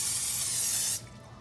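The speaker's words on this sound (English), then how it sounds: "First, a little bit of olive oil cooking spray." Olive oil cooking spray hisses from a can into a baking pan in one steady burst of about a second, then cuts off abruptly into quiet kitchen room tone.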